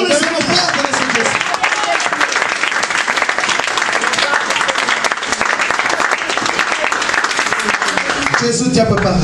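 A church congregation claps and acclaims loudly, dense sustained applause filling the whole stretch with crowd voices mixed in, close and full.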